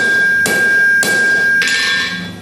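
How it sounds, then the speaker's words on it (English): A horseshoe struck with a hammer on the turning cam of an anvil to bend it, three loud ringing blows spaced about half a second apart, each leaving a metallic ring, close by. "place the shoe there where you want it to bend precisely on that cam and hit the shoe here"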